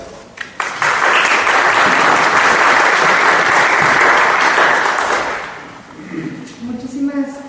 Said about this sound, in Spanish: Un cordial aplauso.